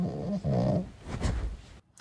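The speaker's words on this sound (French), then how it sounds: "ma chienne, je la fais pas dormir dans mon lit parce qu'elle bouge trop et parce qu'elle ronfle" A pet dog snoring in heavy, rasping breaths, close and fairly loud, with a couple of rough inhale-exhale cycles before a sudden cut to near silence.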